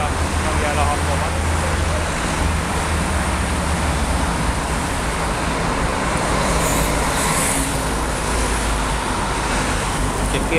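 Steady road traffic on Andrássy Avenue in Budapest, a loud continuous wash of passing cars and buses with a deep rumble, filling the whole stretch without break.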